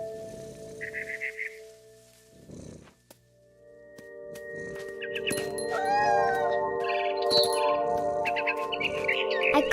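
Inside the game What Remains of Edith Finch, a mother bird chirps and twitters in quick bursts that grow busier, layered over sustained tonal music and soft ambient sound.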